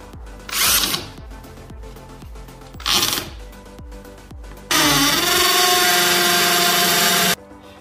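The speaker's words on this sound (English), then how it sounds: "Then we using, after countersink, we using the concrete drill bit." A power drill with a concrete bit revs in two short bursts, then grinds continuously for a few seconds as it bores into concrete, loud and close.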